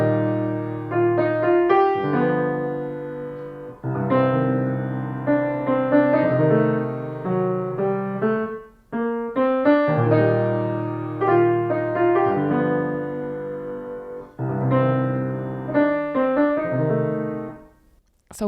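Piano phrase played plainly without the appoggiatura ornament, clear close notes and chords in a few short flowing phrases separated by brief pauses, with no speech.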